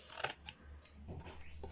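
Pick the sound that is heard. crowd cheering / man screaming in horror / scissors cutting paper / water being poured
scissors cutting paper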